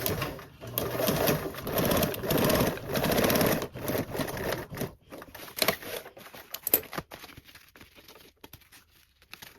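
A Belmont Luxe sewing machine runs loud and close in several bursts of reinforcing stitching across a pocket's divided lines, then drops to softer intermittent clicks and handling noises.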